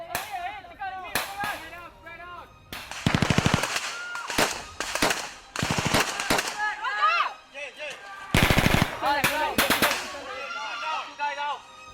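Guns fire as cover fire during military officer training, with rapid automatic bursts and sharp cracks that come in clusters. Voices and shouting overlap the shots.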